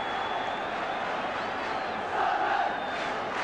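A football crowd of nearly 32,000 at Roker Park for Sunderland v Spurs in 1977 makes a steady, distant roar and chant that swells briefly, with a commentator's voice faintly over it.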